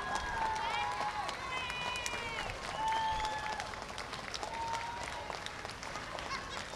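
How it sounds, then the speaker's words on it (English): Crowd applause and cheering for a polo team's victory lap at the Manipur Polo International closing ceremony, a steady broad roar with whistles and shouts, while a commentator talks over it. "Let's hear that crowd go crazy."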